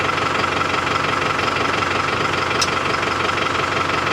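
A Case tractor engine idles steadily at close range with a constant low, knocking rumble and vibration, running alone without talk.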